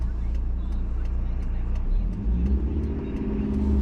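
A car engine hums and rises in pitch as it revs to about 1500 rpm while pulling away, heard from inside with faint voices underneath.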